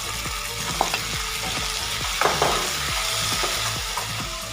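Boiled pasta being stirred and fried in a pan for milk pasta, a continuous loud sizzle with regular rhythmic scraping strokes of the spoon and a couple of brighter clinks.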